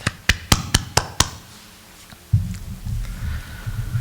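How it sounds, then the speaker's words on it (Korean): Handclaps at a Sunday church service welcoming a newly registered member: six sharp, evenly spaced claps close by, then a low rumbling room murmur takes over. "우리 환영의 박수를 한번 하시기 바랍니다"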